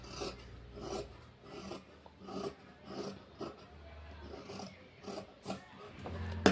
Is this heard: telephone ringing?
no